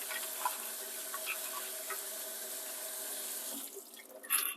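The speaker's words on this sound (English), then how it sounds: "Just give them a quick rinse, just so there's no bugs" Rose hips rinsed under a running kitchen tap, with a steady stream of water splashing into a sink. Small bursts of splashing sound near the end.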